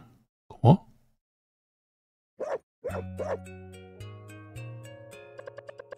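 A dog in the game Eastward gives a few short, separated barks, clear against near silence, followed by bright tonal game music chimes and a melody.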